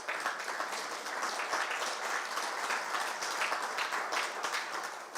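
Audience applause after a talk on lichens, a dense steady clapping from a sizeable crowd that holds evenly for several seconds before starting to fade.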